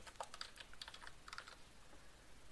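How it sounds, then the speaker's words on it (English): Typing a password on a computer keyboard: a quick run of light, irregular key clicks, close and fairly quiet, with no talking. "So let's type in our password."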